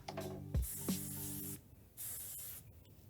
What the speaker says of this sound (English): Before I do that, I'm gonna hairspray a little.